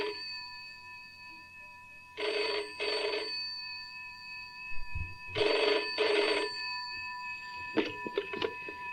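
An electronic telephone rings in bursts at a Christian community centre, two double rings followed by a softer, busier stretch with faint clatter and thumps, fairly loud and close.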